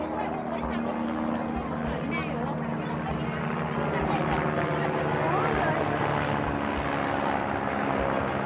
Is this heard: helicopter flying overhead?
yes